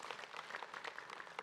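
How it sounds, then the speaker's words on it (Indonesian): An audience claps together at a religious study gathering, a brief, fairly faint burst of many hands clapping. "Banten, tepuk tangan dulu yuk."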